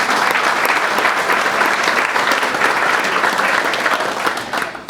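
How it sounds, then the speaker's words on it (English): A crowd at a high school football preview night gives loud, sustained applause, dense and continuous, easing off just at the end. "Please give them a round of applause for joining us."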